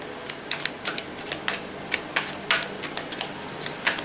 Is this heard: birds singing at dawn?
no